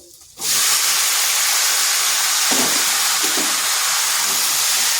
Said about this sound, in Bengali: এরপর মশলাটা একটু ভালোভাবে ভেজে নিচ্ছি এরপর এখানে দিয়ে দিচ্ছি লাউগুলো